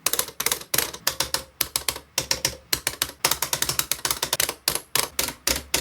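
Rapid, continuous Hori arcade stick button clicking, many sharp taps in quick irregular bursts, close up and fairly loud, with no voices.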